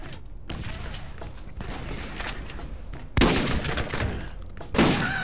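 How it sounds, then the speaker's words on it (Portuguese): Grenade blast and gunfire in the Borderlands shooter, with sharp bursts of shots through the clip and two loud explosive thumps near the middle and end, no talk over them. "Granadinha pra você."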